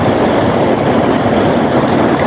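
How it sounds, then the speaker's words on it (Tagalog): Strong wind roars steadily across open sea, heard from aboard a fishing boat, a loud continuous rush with buffeting on the microphone and no talk. "Mahangin."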